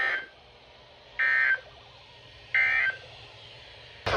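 EAS alert tones for a tornado warning: two loud, steady electronic buzzing beeps about a second apart, each lasting under half a second, over a quiet low background hum, with a third tone starting at the very end.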